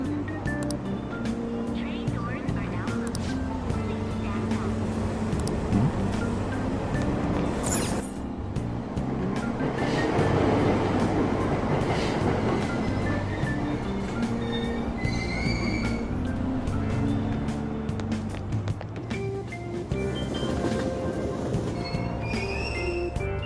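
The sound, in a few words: subway train departing in video game Persona 5 Royal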